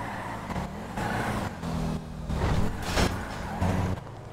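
Car driving and sliding in GTA 5: a steady engine and road roar with rising and falling surges, close and fairly loud, with no talk over it.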